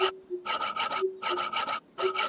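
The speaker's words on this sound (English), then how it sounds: "I simply use my handsaw to cut it" A handsaw cuts a tree branch in a survival video game, with three rhythmic bursts of rasping strokes separated by short pauses, close and fairly loud with no talking.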